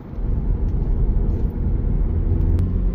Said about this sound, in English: I can let y'all hear what the exhaust sounds like. It don't sound bad for a muffler delete.